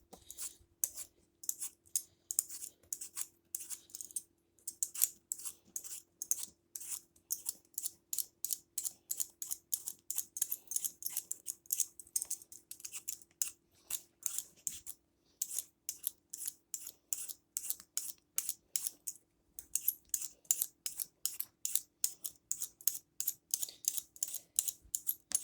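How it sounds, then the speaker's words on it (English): Potatoes being peeled by hand for homemade beef stew, a rapid series of short dry scraping strokes repeating steadily and close up, with brief pauses between potatoes and no talking. "the first thing I'm going to do is peel my potatoes"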